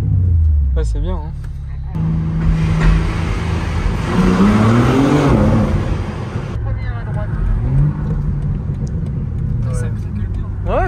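A BMW pulls hard under full throttle, its engine note rising and climbing through the revs from inside the cabin, loud and sustained, with people talking over it.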